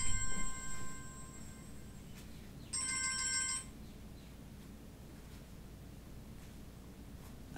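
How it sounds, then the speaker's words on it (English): A mobile phone ringtone plays in a quiet room, a bright electronic melody that rings in a couple of short bursts before cutting off, leaving a faint hush. "And there goes my phone."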